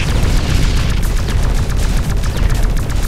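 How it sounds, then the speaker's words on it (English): Air units being shot down in X-Morph Defense set off a steady, loud barrage of overlapping booms and blasts, with no pause across the whole stretch. "Air units are getting shot down."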